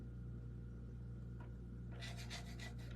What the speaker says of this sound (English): I'm just scraping.